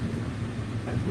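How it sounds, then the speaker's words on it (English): A Disney Epcot monorail rumbles past at a theme park, a steady, loud, low rolling drone filling the whole short moment, with no talking. "Monorail, monorail, monorail, monorail."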